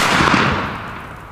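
A Chinese B-class firecracker goes off in one loud, harsh blast with a noisy roar that quickly fades, heard alone outdoors.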